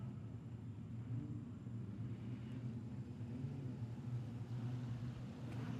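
Speedway race cars in an A-Main at Kingaroy Speedway roll toward the start line, a low, steady, distant engine rumble that stays fairly faint throughout.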